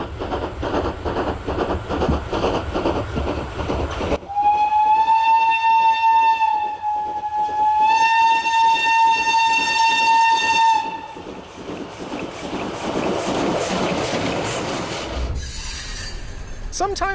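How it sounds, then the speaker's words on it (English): A steam locomotive sounds a long, loud, tonal whistle in two drawn-out blasts over steady chuffing and hissing steam, and the rumble carries on after the whistle stops. "Only a steam locomotive can disappear into its own cloud, then emerge looking even more legendary."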